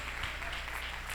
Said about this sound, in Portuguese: Daiane, aplauda Jesus.